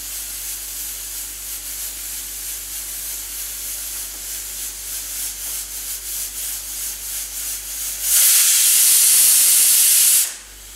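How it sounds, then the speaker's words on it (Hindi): A pressure cooker full of mutton hisses steadily with steam, then lets out a loud, sharp whistle-blast of venting steam lasting about two seconds before cutting off. "अब स्टीम आ गया है"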